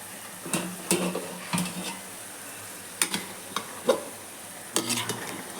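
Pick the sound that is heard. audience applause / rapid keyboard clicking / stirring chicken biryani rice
stirring chicken biryani rice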